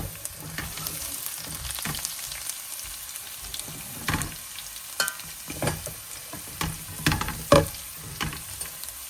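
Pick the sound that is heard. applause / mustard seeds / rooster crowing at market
mustard seeds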